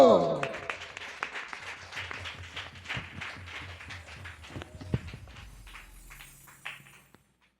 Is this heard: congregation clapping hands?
yes